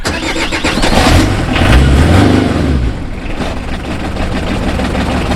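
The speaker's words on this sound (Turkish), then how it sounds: "Şimdi Kango'yu bir çalıştıralım." A Renault Kangoo van engine cranking and catching, then revving up loud and close before dropping back to a rough, steady idle.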